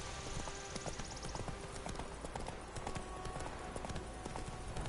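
The horse Roach trots in The Witcher video game, a continuous rhythmic clip-clop of hooves at moderate volume over ambient game sound, with background tones and no clear speech.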